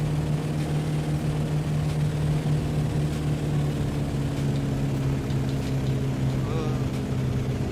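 Steady drone of a Bf 108 Taifun propeller engine climbing after takeoff in a flight simulator game, a constant hum with a strong low tone that holds level for the whole stretch.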